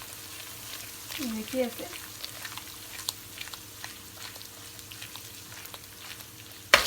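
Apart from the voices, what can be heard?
spice masala with red chilli frying on high heat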